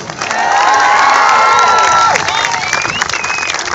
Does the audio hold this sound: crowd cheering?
yes